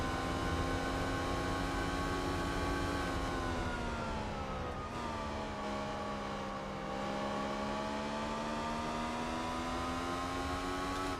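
A car engine in Gran Turismo 4 revs high and holds a steady, sustained whine with strong harmonics for the whole stretch, dipping briefly midway before climbing back, loud and constant with no talk.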